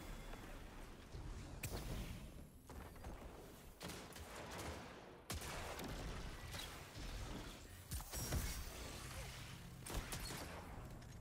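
Grenade launcher shots in Destiny come as a run of heavy blasts and bangs amid continuous game combat noise, moderately loud with no speech.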